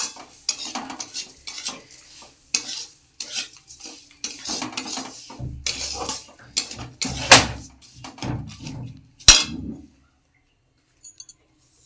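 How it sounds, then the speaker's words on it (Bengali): Semolina and sugar are stirred and fried in a pan on a gas stove, with busy scraping and clinking of a utensil against metal and a faint sizzle, ending in near silence. "এবার আমি সুজি দিয়ে চিনি দিয়ে ভাজতে থাকবো।"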